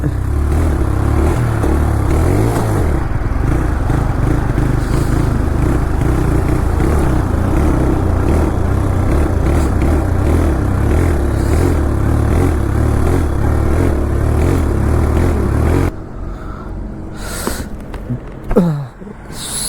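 A TVS Raider 125 motorcycle is ridden on the road, its engine droning steadily under heavy wind roar. Near the end the sound drops quieter and becomes uneven.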